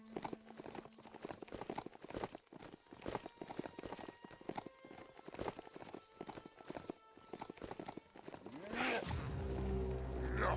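Horse mount hoofbeats in the video game Biomutant, a steady clip-clop rhythm of hooves over game ambience, ending in a louder burst of rumbling sound.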